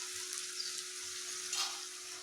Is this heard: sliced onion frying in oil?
yes